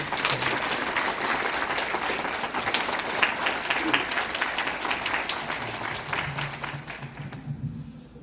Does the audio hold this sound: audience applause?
yes